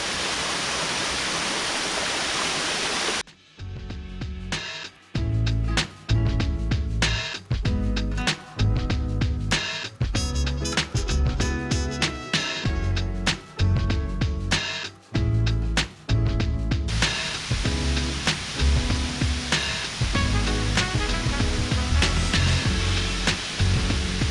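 A waterfall on the Falls View Trail at Chewacla State Park gives a steady, dense rushing roar at the start and end. Loud, choppy, rhythmic thumps and bursts mask it through the middle.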